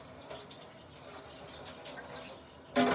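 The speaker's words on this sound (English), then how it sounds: "I'm going to rinse this off real quick." Running water from a kitchen tap rinsing a utensil, a soft steady trickle that swells into a louder gush of flow at the very end, no talk.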